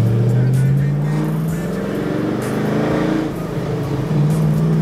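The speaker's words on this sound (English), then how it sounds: "You want to hear how it sounds. So let's go out and take it for a ride." A Vengeance Racing-tuned Chevrolet Camaro SS with the 1LE package, making about 500 rear-wheel horsepower, drones loudly from inside the car on a drive. The engine holds a steady low pitch that climbs as it accelerates, with faint talk underneath.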